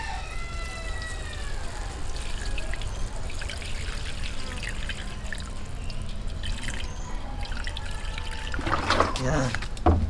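Small splash of water poured into a pot of simmering pork adobo with string beans on an outdoor cooking setup, faint trickling and dripping under a steady background hiss, with a brief louder clatter near the end.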